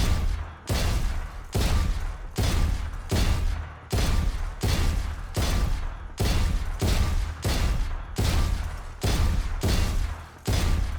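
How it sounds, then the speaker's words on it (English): Headhunter pistol fire in Valorant, a rapid run of loud, close shots in evenly spaced bursts that repeat about every half second for the whole stretch, with no talk. "The Headhunter while moving and crouching is the most accurate gun in the game."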